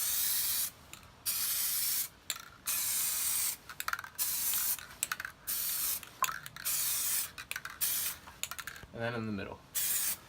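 Aerosol AutoDip coating sprayed in repeated bursts of about a second across wheel spokes, loud and close, with short gaps between passes and someone talking briefly.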